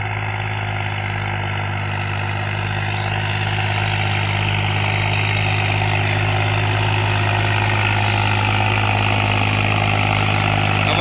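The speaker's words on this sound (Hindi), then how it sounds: "बहुत ज़बरदस्त चलता है वो ट्रैक्टर" A Massey Ferguson 245 tractor engine idles steadily and loudly for the whole stretch, a low continuous drone with a constant rumble and no voices.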